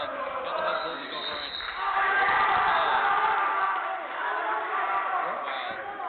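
Crowd cheering and shouting in a school gym during a varsity boys basketball game, a swelling roar of voices that rises and falls, with announcer-style talk mixed in.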